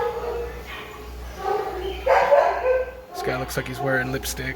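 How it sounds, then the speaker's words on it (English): A mastiff puppy in a fish store gives short yips and barks in the background while a person talks nearby, the barks brief and moderately loud under and after the speech. "They have I believe it's a mastiff back there being a hungry puppy."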